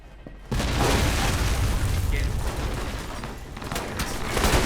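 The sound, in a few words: C4 explosion in video game Alpha Protocol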